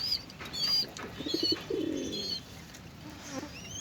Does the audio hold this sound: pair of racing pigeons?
yes